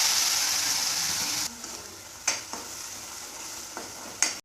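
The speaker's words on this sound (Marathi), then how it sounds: "तेल गरम झालेलं आता थोडंसं जिरं मोहरी टाकून घ्यायची त्याच्यानंतर हे खोबरं खोबरं काजूची पेस्ट टाकून" Cumin and mustard seeds and a coconut-cashew paste fry in hot oil, opening with a loud hiss that drops suddenly, then quieter frying broken by several short sharp sizzling bursts.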